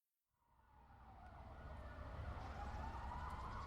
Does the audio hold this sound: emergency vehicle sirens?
yes